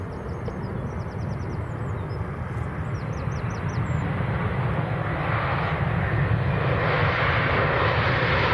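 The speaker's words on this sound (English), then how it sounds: "So this is the Jet 2 from Tenerife." A Jet2 airliner arriving from Tenerife passes over Manchester Airport, its engines a steady broad roar that swells louder toward the end, with bird chirps faintly audible early on and no talking.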